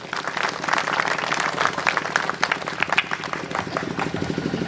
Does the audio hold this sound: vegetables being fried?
no